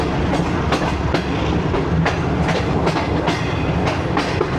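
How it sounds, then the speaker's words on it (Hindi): Two locomotives, a GU20 and an RG, roll over a double diamond crossing toward the shed, heard from aboard the Greenline train from Rohri to Lahore, with a steady heavy rumble and regular clickety-clack wheel beats, loud and close. "ये देखें जो डबल डायमंड क्रॉसिंग है, वहाँ से 2 लोकोमोटिव जा रहे हैं शेड की तरफ"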